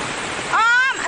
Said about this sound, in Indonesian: Nah, banyu sangat deras dan terus naik.